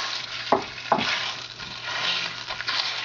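Spicy ground Italian pork sizzles in hot olive oil in a large pan while being mashed into small pieces, with a steady frying hiss and two sharp scraping knocks of a utensil.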